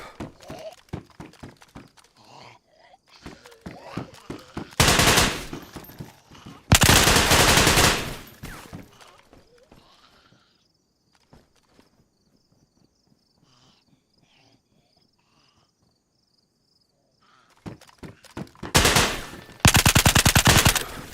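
Bursts of loud, close automatic gunfire from the survival game DayZ come in two long volleys early on, then a quiet stretch of scattered faint sounds, then another pair of heavy bursts near the end.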